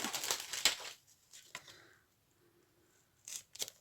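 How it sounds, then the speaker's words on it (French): Scissors snip through paper in several quick, crisp cuts, separated by short pauses of quiet. "Je vais choper mes ciseaux."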